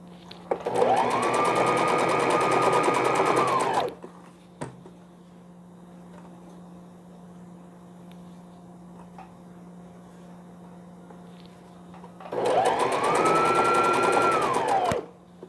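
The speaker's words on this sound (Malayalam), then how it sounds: "നല്ല ഭാഗത്തേക്ക് ഇതേപോലെ സ്റ്റിച്ച് ചെയ്യാം." A sewing machine stitches piping onto a baby frock in two steady bursts of about three seconds each, one at the start and one at the end, with a quiet stretch between them.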